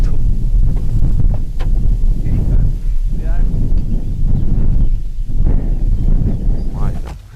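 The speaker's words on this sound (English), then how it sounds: "And it's always windy." Strong wind buffeting the microphone in an einkorn wheat field on an Italian farm in August, a loud continuous low roar with gusts rising and falling throughout.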